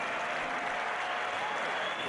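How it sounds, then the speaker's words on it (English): A packed Madison Square Garden crowd gives a sustained standing ovation after a college wrestling match, dense steady applause filling the arena with no breaks. "the crowd at Madison Square Garden gave Miller a standing ovation when he walked off the mat"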